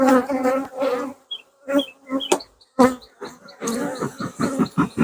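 Honey bees buzz close by during a hive inspection, their drone rising and falling in uneven bursts with short gaps and a few sharp clicks.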